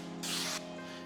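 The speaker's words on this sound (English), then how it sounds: "So I'm gonna spray the mirror down." A single short burst of slip solution sprays from a True Spray keg system onto a car mirror, a close, bright hiss lasting under half a second against a faint steady hum.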